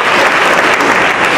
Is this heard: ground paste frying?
no